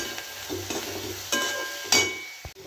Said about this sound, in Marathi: आता आपण हा कांदा परतायला टाकू.